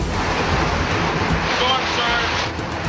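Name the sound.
hurricane Katrina storm surge waves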